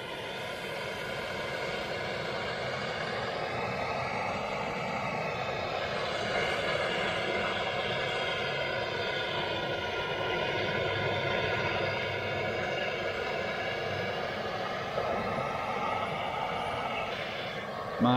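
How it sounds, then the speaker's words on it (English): A MAP gas torch heating the clogged drain of a Lang 84 D BBQ smoker, a steady roaring hiss that holds unbroken and fairly loud from start to finish, with no speech. "So I'm gonna get the old map gas torch out and just start heating this thing up"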